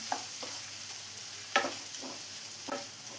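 Paneer shallow-frying in butter and oil over a medium flame: a soft, steady sizzle close by, broken by a handful of sharp clicks of a utensil against the pan.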